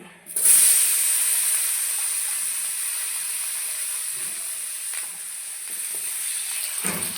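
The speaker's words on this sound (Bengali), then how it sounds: "এই তেলেই আমি এখন আলু বেগুন ভেজে নেব। দিয়ে দিচ্ছি আলু।" Potatoes dropped into hot oil just used for frying fish burst into a loud, sudden hiss that settles into a steady, close sizzle, with a faint clatter near the end.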